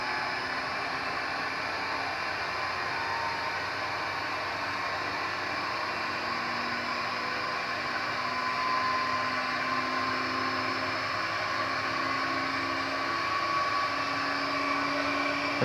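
A machine spindle motor, apparently on a Haas VF6 mill, runs up toward full speed with a steady broadband whir and a faint rising tone, loud and continuous with no talk.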